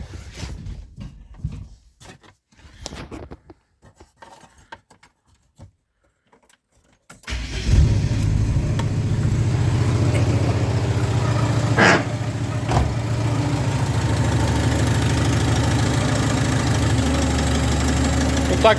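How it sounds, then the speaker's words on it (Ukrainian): Quiet rustling and small clunks, then a car engine turns over and catches, settling into a steady, loud running drone that continues to the end. "працює моторчик."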